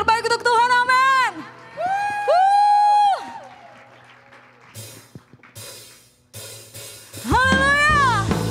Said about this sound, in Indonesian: berikan tepuk tangan yang terbaik untuk Tuhan